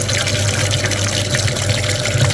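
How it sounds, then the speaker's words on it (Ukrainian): Water rushes continuously as it flushes the heater radiator of a VW Passat B7 2.0 TDI clogged with hardened antifreeze deposits, a loud, close, steady gushing with no speech. "Будемо мити радіатор пічки, з нього вилітає кусочки закам'янілого антифризу."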